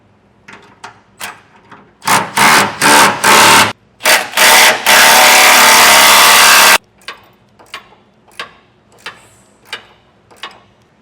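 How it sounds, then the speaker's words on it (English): A power tool tightens 5th wheel hitch bolts through the bed of a 2019 Ram 2500 pickup, with loud whirring bursts between sharp clicks of a ratchet, close by with no talk. "I'm going to tighten the hardware that's going through the bed first on all of it"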